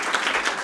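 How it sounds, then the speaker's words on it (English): Clapping at a board meeting, where the room applauds Forrest: a dense, steady patter of many hands with no one standing out. "Everyone clap for Forrest."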